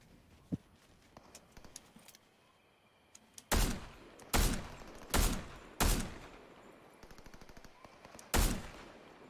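Gunfire in the video game Fortnite sounds as several loud bursts of shots spaced a second or so apart, over a quiet game ambience with faint footsteps.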